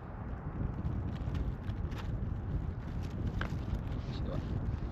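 Wind gusts steadily across an outdoor campsite at Laguna Negra, a broad low rumble of microphone buffeting that persists throughout, with faint scattered knocks and a light voice occasionally audible beneath it.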